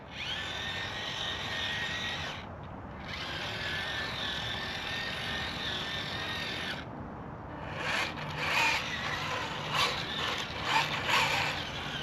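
A cheap under-$60 RC tracked vehicle grinds and whirs steadily as its steering is tried, with brief gaps when the motor stops, then rougher rasping bursts toward the end.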